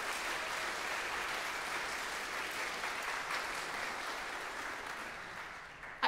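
A church congregation breaks into sustained applause after a sermon, a dense, steady wash of clapping that holds at full level for several seconds before easing slightly at the end.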